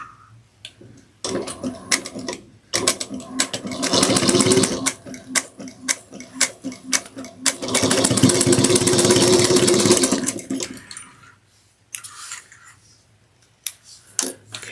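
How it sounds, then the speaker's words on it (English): A sewing machine runs in two long bursts, stitching lining and exterior fabric pieces together at a three-eighths-inch seam, with rapid needle ticking between shorter starts and stops. "then we're going to sew them together at 3/8 of an inch"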